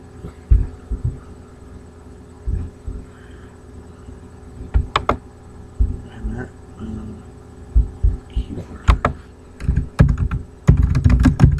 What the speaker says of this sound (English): Maybe if I type that word in.